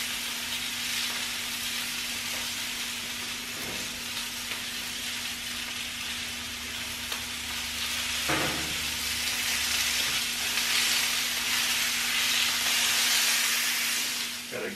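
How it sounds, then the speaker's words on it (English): Steak searing in a pan on a farm, giving a continuous loud hiss and sizzle with a steady low hum underneath and a couple of brief spikes of louder spitting partway through. "Got a good sear going. That piece of steak is looking delicious."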